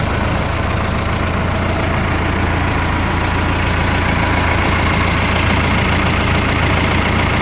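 A 2011 Claas Arion 410 tractor engine runs steadily nearby, a loud, rough low rumble with a constant idle throb throughout.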